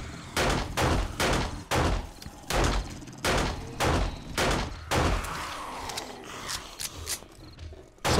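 Gunfire during a horde night in the video game 7 Days to Die, Alpha 19, a rhythmic run of about a dozen evenly spaced loud shots with a brief lull near the end.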